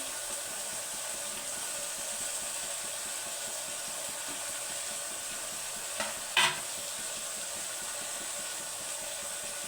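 Beans and green peas, alongside carrot, go into a hot pan for a tomato bath breakfast, a brief soft clatter rising over a steady, fairly quiet sizzle, with no talking.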